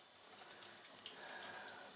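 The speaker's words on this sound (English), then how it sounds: "we're just gonna get some water running." Tap water running into a sink, a soft steady hiss and trickle from a faucet set to cool water, heard alone and fairly quiet for a couple of seconds.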